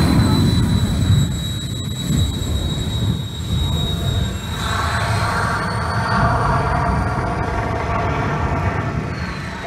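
A jet car roars at a motorsport thrill show, a loud sustained whine and rumble with a rising pitch shift partway through and crowd noise beneath, filling the whole stretch without pause.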